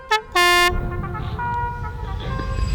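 A novelty car horn plays a short cowboy-style tune: two loud bright bursts, a brief toot then a longer blare, fading into a low rumble of background noise.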